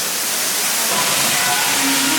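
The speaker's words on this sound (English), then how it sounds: "This is a natural waterfall 500 feet below the surface." Natural spring waterfall 500 feet underground in Marvel Cave, a steady, loud rushing hiss of falling water filling the whole moment without a break.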